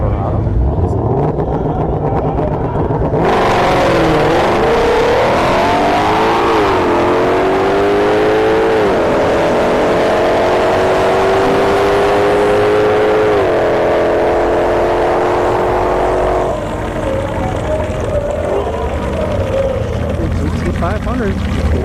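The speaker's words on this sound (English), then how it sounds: "we have a Shelby GT500 going up against Silverado" A Shelby GT500 revs and accelerates hard at a drag strip, the engine note climbing loud and sustained across several rising sweeps as it launches, with a commentator talking over the noise.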